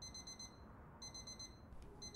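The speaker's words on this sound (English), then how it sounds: "Alarm's going off or my phone is ringing." A repeating electronic alarm beeps in rapid bursts of high tones inside a bodycam horror video game, pausing briefly between groups, faint and steady over low background rumble, with no talking.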